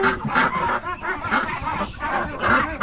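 Chickens cluck and murmur in soft, overlapping bursts, a small flock settling in a coop close by.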